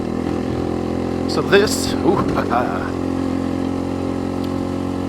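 A motorcycle rumbles along a dirt road near Sedona, Arizona with a steady engine drone and a couple of brief revs. Someone speaks over it.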